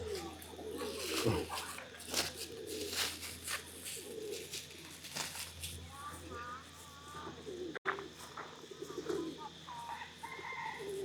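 Pigeons coo softly at Wat Umong temple in Chiang Mai, low repeated throaty calls under intermittent nearby speech and outdoor ambience, with a few faint chirps.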